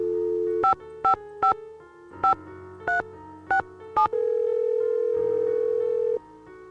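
A telephone in the Nancy Drew video game Message in a Haunted Mansion plays a steady dial tone, cut by seven short evenly spaced keypad beeps, then a long clear tone resumes.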